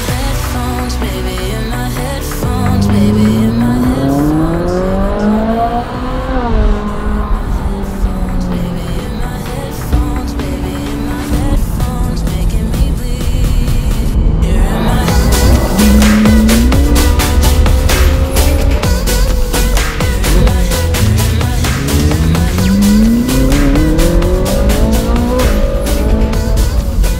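Loud supercar engines, including a McLaren Senna and an Audi R8, roar continuously in a convoy, rising and falling in pitch as they accelerate and shift gears close by, with a deep, throaty rumble throughout.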